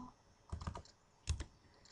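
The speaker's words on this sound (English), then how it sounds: "Again, hitting enter." A handful of computer keyboard keystrokes in two quick clusters, the second a firmer press like hitting enter, soft and close in an otherwise quiet room.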